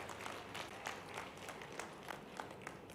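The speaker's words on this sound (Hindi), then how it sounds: "जोरदार ताली बजा करके मेरी बात का समर्थन व्यक्त करें" Audience applause at a Madhya Pradesh political rally, a steady wash of many hands clapping at moderate distance, continuous for the whole stretch with a faint crowd murmur beneath.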